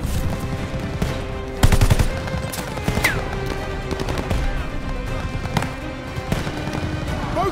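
Sustained machine gun fire in the WWII shooter Call of Duty: Vanguard, dense rapid bursts of gunfire layered with sharp individual shots and battlefield din, with shouted commands heard over it.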